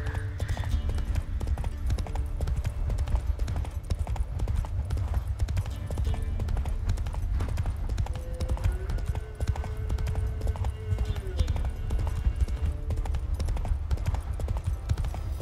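Horse hooves clip-clopping in a steady galloping rhythm while riding in The Witcher 3, continuous and close over game music, with a brief whinny-like tone.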